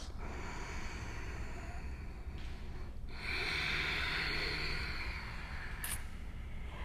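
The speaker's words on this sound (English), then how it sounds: "taking nice, long, slow inhales and nice, long, slow exhales" Slow, deep yoga breathing in a studio, long soft airy inhales and exhales close to the mic over a quiet room hiss, without speech.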